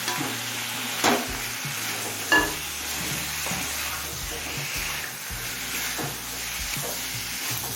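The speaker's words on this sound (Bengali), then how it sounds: "এবার মাছের মাথা দুটো দিয়ে দিচ্ছি" Hilsa fish heads sauté in a pan with the spices already cooking there, a steady close sizzle with stirring scrapes and two sharp clanks. The sound runs continuously for the whole stretch.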